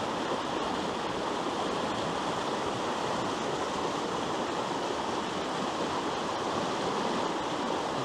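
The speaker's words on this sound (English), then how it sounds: "But as simple as you see this river flowing here" A river in Canada flows in a steady, even rush of water, a continuous broadband hiss that stays constant throughout with no voices.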